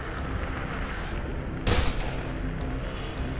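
A single sharp gunshot rings out in Dead Island, one loud close crack over a steady low game ambience.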